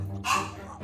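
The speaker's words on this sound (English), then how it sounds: "Over the rapid and deranged barks of Diva" A dog lets out a sharp, close bark in one brief burst over a low background hum.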